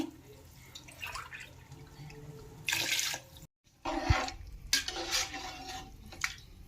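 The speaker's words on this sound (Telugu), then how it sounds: "ఇప్పుడు నేను 8 గ్లాసులు వాటర్ యాడ్ చేస్తున్నాను" Water is poured from a glass into a cooking pot for Nellore chicken biryani, several short splashing pours with brief pauses and a clink, close and fairly quiet.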